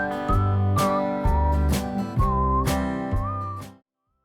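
A person whistles a short melody in several sustained, wavering phrases, close and clear with no talk, ending abruptly after about four seconds.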